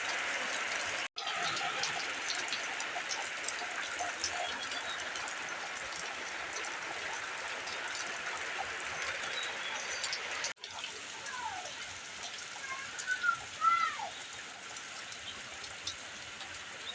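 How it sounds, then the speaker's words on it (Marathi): Steady hiss of the first monsoon rain falling outdoors in Konkan, India, with scattered drips and a few faint bird calls toward the end. "आजपासून आपल्याकडे पावसाळ्यात सुरुवात झालेली आहे"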